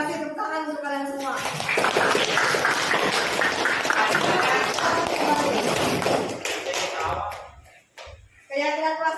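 A class of students in a school classroom claps together, a dense burst of many hands lasting several seconds, framed by a teacher speaking just before and after.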